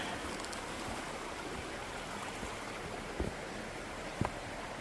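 Steady broadband rush of a mountain stream flowing beside a waterfall trail at Black Rock Mountain in Rabun, Georgia, constant and fairly close, with a couple of faint brief knocks near the end.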